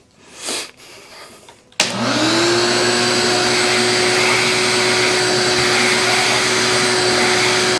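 After some brief handling noise, a vacuum switches on loud and close, roaring steadily as it sucks wood shavings out of a hole drilled in the ground for a post.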